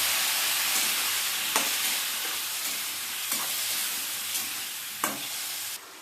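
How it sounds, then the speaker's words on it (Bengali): A spice paste with green chilli sautéing in a pan after a splash of water, a loud steady hissing sizzle broken by a few knocks of a stirring spoon, close and without voices. "এবারে সামান্য একটু জল দিয়ে কষিয়ে নেব"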